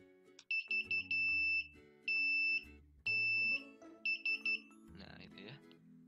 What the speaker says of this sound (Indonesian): Untuk yang ground dengan yang positifnya langsung ke buzzer tanpa resistor.